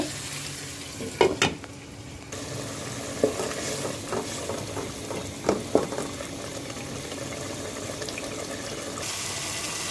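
One kilo of meat for chicken tikka biryani cooks covered over a low flame, giving a soft steady sizzle with a few scattered clattering knocks from the pot.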